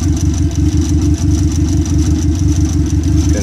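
Car engine on a standalone ECU running a base map, idling very rich while warming up, a loud close steady low-pitched thrum with a slightly uneven, lumpy pulse.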